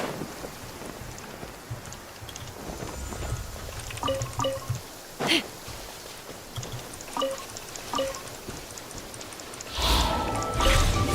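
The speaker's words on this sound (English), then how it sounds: "Rain. My hair and feathers are gonna get soaked." Rain falls in the video game Genshin Impact as a steady, hissing patter, joined by scattered chiming game effects and a brief swell of louder noise near the end.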